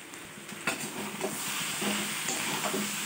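Aloo posto, potatoes frying in a pan, give off a continuous sizzling hiss with a few scraping stirs of a spoon, building slightly louder toward the end; no one speaks.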